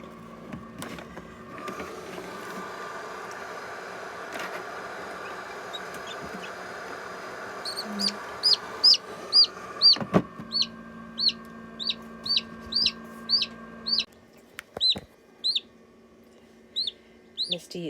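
Newly hatched Silver Laced Orpington and Black Copper chicks peeping in a rapid series of high, sharp chirps, close by, starting after a stretch of low hum and soft background talk.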